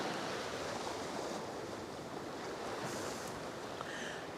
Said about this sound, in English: There's some nice little glassy waves here.